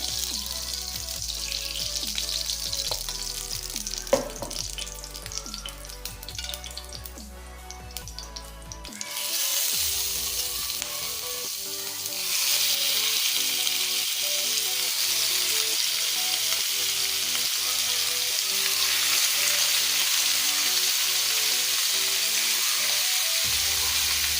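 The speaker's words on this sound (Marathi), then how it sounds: "आता आमी हे फ्रॉन्स रोस्ट करून घेया की 3 चमचे तूप घालचे आता" Prawns roasting in ghee in a pan for a restaurant-style ghee roast make a continuous close sizzle with stirring scrapes; the frying grows louder and fuller midway and carries on steadily to the end.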